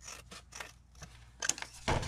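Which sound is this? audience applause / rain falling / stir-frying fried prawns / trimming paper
trimming paper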